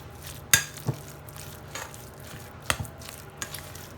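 A spoon mixes tuna and mashed potato filling in a bowl with soft, irregular scrapes. A couple of sharper knocks against the bowl stand out, and the setting is otherwise quiet with no talk.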